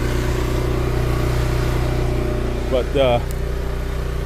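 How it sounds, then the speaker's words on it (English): Several engines, including log splitter engines, idle together in a yard in a steady low drone, with a short spoken word breaking in near the end. "it's nice to hear all these engines running at the same time here in the yard."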